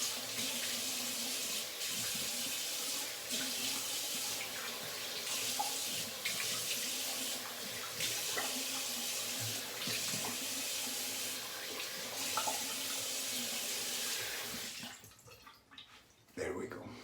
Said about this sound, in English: rinse, cold water.